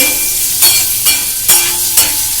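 Capsicum seasoned with half a teaspoon of salt cooking in a covered pan, giving a steady close sizzle with a few brief louder stirring scrapes.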